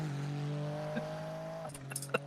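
A GT race car engine in a sim racing game hums steadily and rises in pitch as it passes, ending with a few sharp clicks and rattles.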